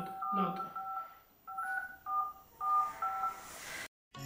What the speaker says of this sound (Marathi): लाव फोन